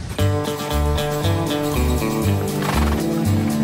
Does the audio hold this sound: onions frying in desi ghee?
no